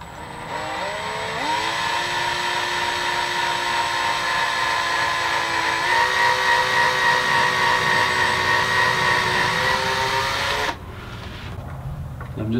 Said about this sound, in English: just drill a new hole.